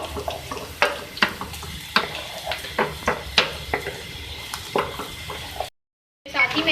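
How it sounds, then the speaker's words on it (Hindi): Ajwain (carom seeds) sizzle in a hot pan for an arvi subzi while a spoon stirs, giving repeated sharp scraping clicks over a soft frying hiss, close and fairly loud, with a brief dropout near the end. "थोड़ा फ्राई कर लें इसको भी।"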